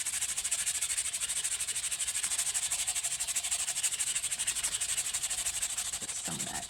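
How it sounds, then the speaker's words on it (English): Sooty part being sanded by hand, a steady close scratchy rubbing in quick regular back-and-forth strokes running the whole time, with a brief knock near the end. "Okay, we'll give it a nice little sand."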